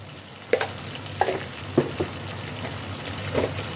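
Spices stirred into a paneer kali mirch white gravy in a pan, a spoon scraping in several distinct strokes over a soft, steady sizzle; no voices.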